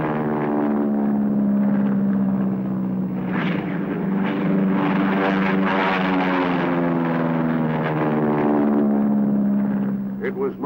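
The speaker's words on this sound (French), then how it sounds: "En mer du Japon, les porte-avions de la Task Force 77 déploient leur appareil." Propeller aircraft engines of Task Force 77 carrier planes during the Korean War, a steady loud droning roar with strong harmonics throughout, swelling slightly midway, under a narrator's voice.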